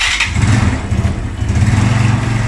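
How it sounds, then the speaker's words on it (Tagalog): Just after a cold start, a Yamaha Mio Sporty scooter engine idles close by as it warms up. The steady putter is slightly uneven and loud, with no voices. "Cold start pa mga boss,"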